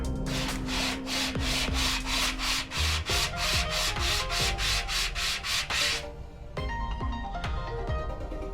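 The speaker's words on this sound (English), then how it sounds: "I'm gonna go to the 800 grit to do the finishing touch and get it to 981." A crankshaft journal from a turbo BMW E36 M3 race engine is hand-sanded with 800 grit paper in quick, even back-and-forth strokes, about a dozen-plus rasping passes close up, then softer, slower rubbing.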